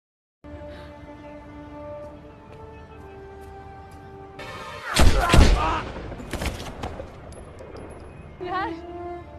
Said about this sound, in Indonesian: menembak penjahat itu hingga membuatnya modar